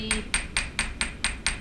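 Seven evenly spaced hammer blows strike folded copper sheet metal in fold-formed leaf jewelry making. The bright metallic taps repeat in a steady, quick rhythm and sound close by.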